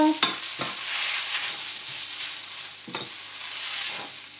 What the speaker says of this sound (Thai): อันนี้เส้นที่เราจะทำราดหน้า เราจะผัดนะคะ